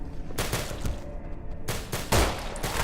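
M16A4 rifle gunfire in a zombie shooter game, a few loud sharp bursts of shots with short pauses between them, close and clear, with no voices.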